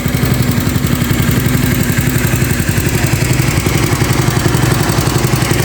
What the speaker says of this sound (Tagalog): So mayroon siyang pinapandar na motor para sa oxygen.